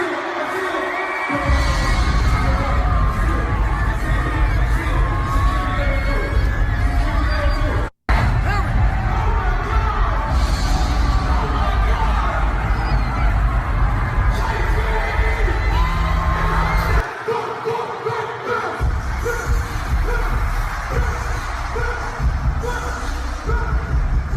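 A dense Travis Scott concert crowd roars and shouts over heavy thumping bass, loud and sustained with brief dips and one sudden cut, played back from a recording.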